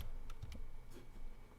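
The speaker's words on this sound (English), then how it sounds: "Give me a second because I'm typing and trying to talk at the same time." Computer keyboard typing while writing database code, a short run of quick, moderately close key clicks in an uneven rhythm with no talk.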